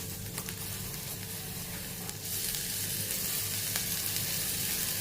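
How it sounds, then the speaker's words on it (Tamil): Cumin seeds and grated ginger sizzle in a little oil in a kadai, a constant close frying hiss with occasional stirring scrapes, growing slightly louder midway. "கடாயில் கொஞ்சம் ஒரு 1/4 டீஸ்பூனு எண்ணெய் விட்டுக்குருவோம். ஒரு 1/4 டீஸ்பூனு சீரகம் போட்டுக்குருவோம்."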